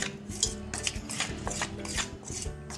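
Chakli dough of roasted flour and warm ghee is worked by hand in a bowl, giving soft irregular squelching and light clinking taps close by, with no talking.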